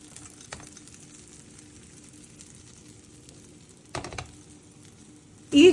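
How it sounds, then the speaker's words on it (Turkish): Schnitzels frying in hot oil give a steady, soft sizzle throughout, with a couple of brief clatters and a loud sharp burst at the very end. "Yağı iyice kızdırdım. Şnitzerleri ekliyorum."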